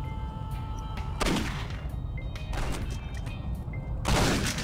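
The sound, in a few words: grenade explosion in the video game Postal 2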